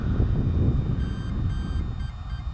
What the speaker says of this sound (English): those are the beeps to indicate that it's been completed